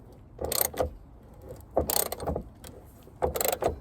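A spanner works on a coilover of a Porsche 924, three close bursts of ratcheting clicks, each about half a second long, separated by short pauses.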